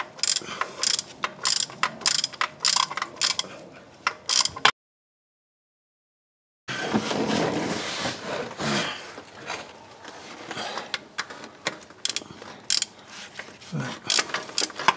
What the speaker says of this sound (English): Flex head ratchet helps a lot with this. I'll break the bottom one loose here.